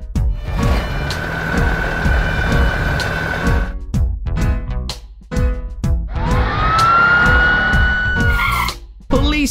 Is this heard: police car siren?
yes